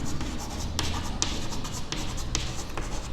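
Steady scratchy pen strokes writing out a maths logic exercise, close and continuous, with short tapping strokes and brief lifts between marks and no voices over them.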